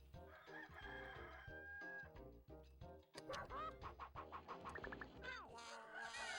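Chicken sounds in the PS2 game 102 Dalmatians, with crowing and clucking calls set over busy, loud game music and effects throughout.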